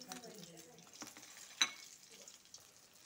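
Bakful (agati flower) fritters spiced with cumin and black cumin frying in oil, giving a faint, steady sizzle with a brief clink partway through and soft voices in the background.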